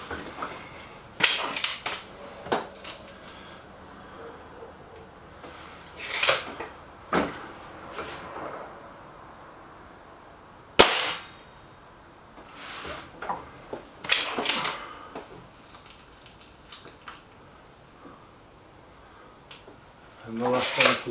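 Air rifle fires .22 pellets at a bullseye target, several sharp, spaced cracks with mechanical clicks of reloading between them, set in a quiet room.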